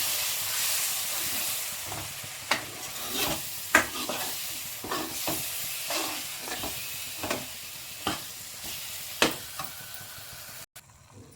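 Sambar mixture with tamarind simmers and hisses softly in a pan while a spoon stirs it, its clinks and scrapes landing every second or so against the steady background sizzle, up close but fairly quiet.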